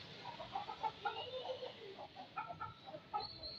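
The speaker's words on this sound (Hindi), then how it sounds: "अभी आ गया मुर्गा," A fighting rooster gives a series of short, soft clucks close by, in an irregular rhythm over quiet background noise.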